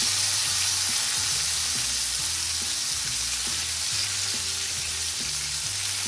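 Food frying in a non-stick pan: a steady, close hiss and sizzle runs throughout, with soft crackles and faint scraping under it and no voices.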